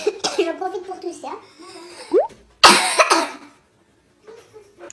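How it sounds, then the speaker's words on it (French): A person talks briefly, then lets out a loud, harsh burst of coughing up close, followed by near silence and a faint trailing sound. "J'en profite pour tousser."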